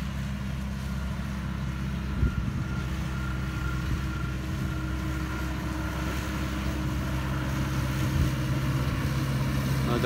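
A Claas Arion 530 tractor working with a McHale F550 baler, heard from inside the cab as a steady, close, continuous low engine drone with faint rattles and no break.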